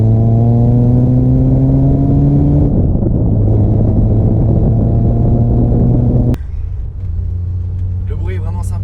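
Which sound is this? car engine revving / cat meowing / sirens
car engine revving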